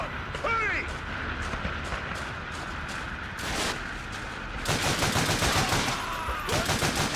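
Gunfire in Call of Duty: Finest Hour from a hard-recoiling weapon: a short burst early, then dense rapid volleys crackling loudly from the middle to the end over a constant battlefield din.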